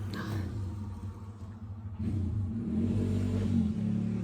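A motorbike passes outside with a low, steady engine rumble that revs up and grows louder partway through, heard from a moderate distance with no one speaking.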